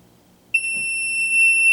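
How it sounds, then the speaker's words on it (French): After a short circuit blows its fuse, a power supply's alarm starts after a brief quiet: a loud, piercing, continuous high-pitched electronic beep that holds steady to the end. "Puis vu que j'ai activé mon alarme, je devrais avoir un sonore."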